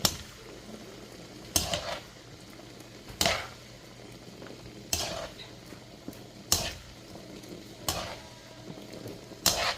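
Rice noodles with vegetables being stirred in a pan, with periodic scraping and clanking strokes about every second and a half over a quiet background hiss, no talking.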